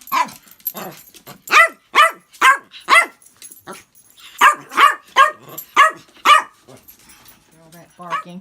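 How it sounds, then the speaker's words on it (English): Several dogs bark excitedly indoors, a rapid series of loud, close barks and yips in quick bursts that trail off into a softer whine at the end. "All that barking. They heard something outside and got excited."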